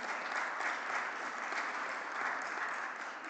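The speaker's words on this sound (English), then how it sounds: "I hope the colleagues from the Commission will give another round of applause" A round of applause from the audience at an e-voting conference, a steady, even wash of many hands clapping, somewhat distant and soft.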